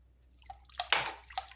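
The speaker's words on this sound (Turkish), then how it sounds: "Şöyle bir su bardağı sıvı yağımızı ekliyoruz." A glass of vegetable oil is poured into bread dough in a home kitchen, giving a few quiet, splashy liquid gurgles in short bursts against a near-silent background.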